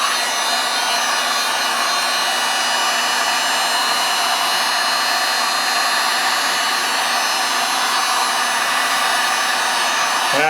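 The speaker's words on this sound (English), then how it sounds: "Let me grab my heat gun. We're going to move this around." A heat gun blows hot air across poured resin art with neon mica powders, a loud, steady, unbroken whooshing roar held close to the mic for the whole stretch, with no voices.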